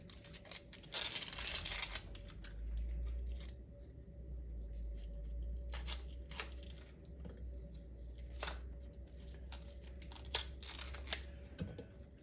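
Onion being peeled and chopped on a board for chakchouka, with bursts of crisp crinkling and tearing from the papery skin and sharp cutting strokes, fairly close and quiet, no talk.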